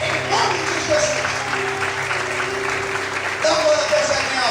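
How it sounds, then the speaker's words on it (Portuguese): A church congregation applauds and praises the Lord in worship, the clapping mixed with raised voices, music and a steady low hum from the room. "Quantos podem levantar a mão, aplaudir e exaltar o Senhor em nome de Jesus?"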